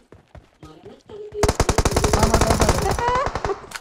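Automatic weapon fire in PUBG Mobile gameplay, a rapid sustained burst of loud gunshots lasting about two seconds, preceded by a brief voice and accompanied by tonal game sounds.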